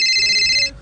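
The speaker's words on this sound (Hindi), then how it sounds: "अरे ये तो शिवम की मम्मी का फोन है" A mobile phone rings with a bright electronic ringtone, loud and close, sounding continuously before cutting off abruptly near the end.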